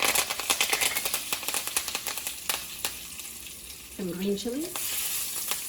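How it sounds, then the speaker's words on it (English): Spices including cumin seeds sizzle and crackle in hot ghee for a keto Indian lupin dal, with sharp pops through the first seconds, then a steady sizzle continuing under a voice speaking. "I'm adding 1/2 teaspoon of cumin seeds and let them sizzle"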